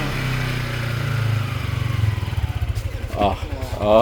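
A Yamaha Sniper 155 VVA motorcycle engine idles low, then revs in short pulsing bursts, with a person talking over it toward the end.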